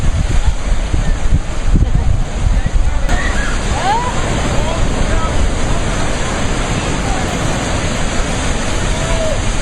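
Ocean surf washes continuously with broad, rushing noise and wind buffeting the microphone. Faint chirping sounds appear briefly.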